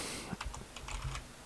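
Quick typing on a computer keyboard, a burst of light close clicks lasting about a second with no talk.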